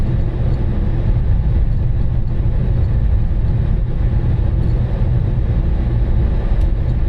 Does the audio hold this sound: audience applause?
no